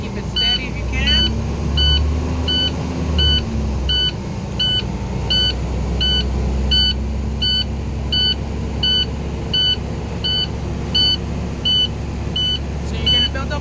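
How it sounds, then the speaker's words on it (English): A school bus idles and revs steadily to build up air pressure, a low engine rumble running under a regular, repeating warning beep, with a voice speaking nearby. "So I'm going to go ahead and rev it up."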